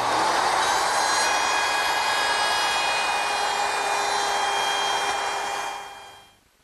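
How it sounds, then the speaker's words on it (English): A router fitted with a 1/4-inch round-over bit whines loudly and steadily as it rounds the outside corner of a rustic wooden coffee table, holding a high, even tone before spinning down and stopping near the end. "I'm just going to round over the outside corner with a 1/4-inch rounding over bit in my router"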